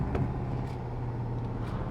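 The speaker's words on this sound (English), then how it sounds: "you still get a really nice burble from the sports exhaust, even in the low speeds" A low, steady engine rumble from a Porsche 718 GTS 2.5 moving slowly in traffic, with a throaty sports exhaust burble and a few faint passing sounds over it.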